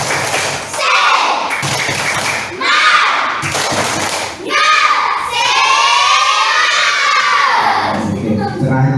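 Schoolchildren in a classroom doing the rhythmic 'tepuk semangat' spirit clap, loud bursts of unison clapping and chanting voices with thumps, then shouting and cheering at close range.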